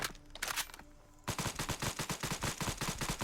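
Bursts of rapid automatic fire from a Vulkan-M rifle in the Fallout 4 video game, with a few loose shots followed by a sustained, loud, steady rattle of close gunfire.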